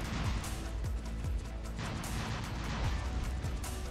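Rapid rocket volleys from Orkan launchers in the mech combat game War Robots, a dense continuous barrage of thumping bursts under a constant loud rumble with no gaps.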